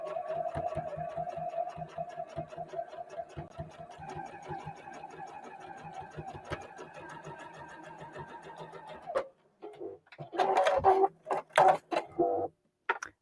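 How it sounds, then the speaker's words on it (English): A sewing machine straight-stitches felt, running steadily with a fast rhythmic stitching whir for several seconds, then pauses and resumes in short irregular bursts. "I'm just sewing around with my straight stitch on my sewing machine"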